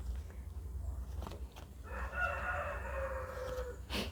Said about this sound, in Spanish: Por allá sigue el gallo.